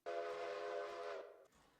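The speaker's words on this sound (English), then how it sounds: "1 whistle blast signifies that I've stopped." A single steam-style train whistle blast in the Railroader video game, one sustained tonal toot lasting about a second before cutting off, clear and fairly quiet.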